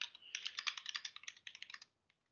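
Typing on a computer keyboard while writing an email, a quick, close run of crisp clicking keystrokes for about two seconds, then one last tap after a pause.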